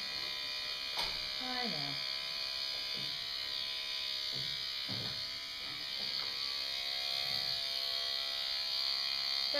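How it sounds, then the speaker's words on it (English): Electric clippers buzz steadily and up close while trimming a horse's coat for show, the loud drone unbroken under brief, quiet talk. "my clippers for some reason are loud"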